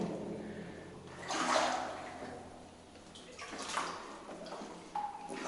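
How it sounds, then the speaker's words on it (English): Water sloshes and splashes in slow surges as someone wades through a gold mine adit, echoing faintly in the enclosed tunnel, with no talking. "I'm making waves as I'm walking, and I think it's just splashing on the sides in there."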